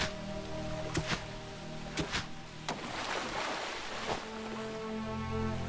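Steady broadband rushing of a river flowing through the Wildmender game world, a continuous watery wash with a few sharp clicks and tonal game sounds layered over it.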